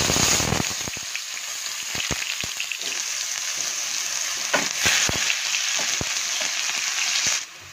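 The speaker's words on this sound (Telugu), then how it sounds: "ఆనియన్స్ వేగుతున్నాయి కదండి" Onions frying in a pan for a paneer cashew butter masala curry, a steady close sizzle with scattered crackles and a few sharp pops, continuous until it cuts off near the end.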